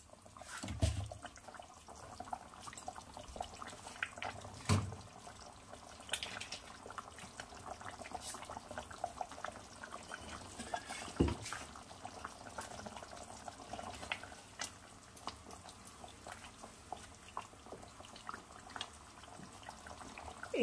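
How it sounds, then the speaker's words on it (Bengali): A Bengali fish curry simmers in a pan, quiet steady bubbling with small pops and occasional louder crackles throughout. "এবার একটু হতে দেবো"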